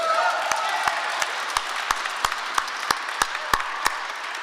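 Applause for a university volleyball team at a press conference, a steady wash of clapping with a few sharp louder claps standing out in a regular rhythm, moderately close and continuing throughout.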